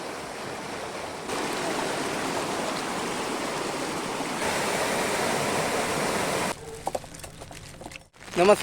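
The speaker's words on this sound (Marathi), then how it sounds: "नदीला बऱ्यापैकी पाणी आलंय" A river swollen by monsoon rain rushes past in a steady, dense roar that stays loud and close, then breaks into a thinner, choppier wash near the end.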